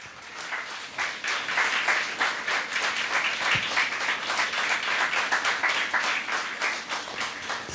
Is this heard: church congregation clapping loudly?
yes